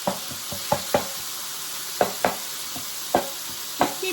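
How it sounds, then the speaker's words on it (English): Sausage meat frying in a pan while a utensil stirs it, a steady soft sizzle under repeated scraping taps that come in quick clusters, close and moderately quiet. "Just keep doing that until your sausage meat starts to brown a little bit."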